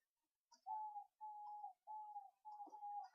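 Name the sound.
bird singing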